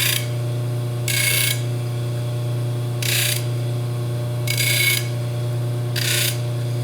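A Baldor buffer hums steadily while metal corners are deburred, with four loud, bright bursts of grinding hiss as the workpiece is pressed lightly to the wheel, each lasting about half a second.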